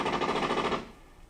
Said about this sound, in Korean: 엄마 방에선 총소리가 한참입니다.